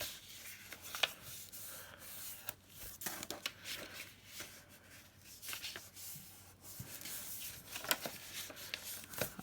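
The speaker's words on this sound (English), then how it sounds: "Now I'm going to fold the 2 short corners in first." Paper envelope corners being folded and creased by hand for an envelope journal, with soft rubbing and crinkling close up, short scraping strokes and light taps scattered throughout, quiet and without talk.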